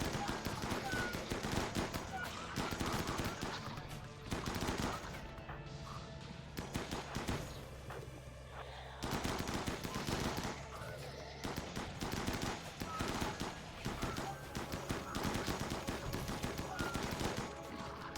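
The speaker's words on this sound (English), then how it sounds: "A lot of shooting practice" Gunfire in the Rimworld colony game, dense overlapping bursts of automatic fire and single shots with crashing impacts, loud and near, continuing in waves with brief lulls.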